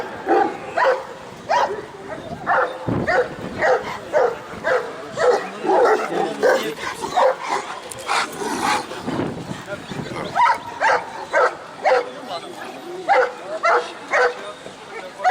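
A Kangal dog barks at a Sivas Kangal dog competition, giving loud, close, regularly spaced barks in a steady rhythm that runs throughout, with people's voices mixed in.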